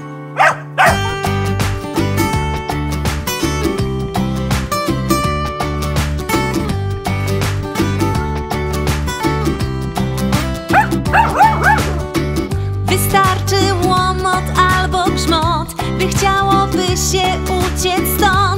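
Dogs barking and yipping repeatedly throughout a Polish-language children's song, the barks set against continuous sung melody and instrumental accompaniment at steady loudness.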